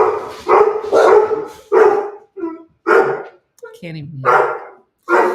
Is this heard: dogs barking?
yes